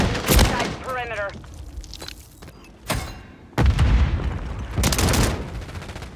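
Grenade blasts and bursts of gunfire in Call of Duty, loud close booms and rapid shots scattered across the moment, with game voice callouts in between.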